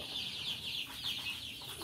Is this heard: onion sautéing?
no